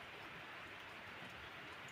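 Steady rain pours down in a rural village in Maliksi, Cavite, Philippines, a dense, even hiss of drops hitting the surfaces all around, continuous and fairly loud throughout with no voices.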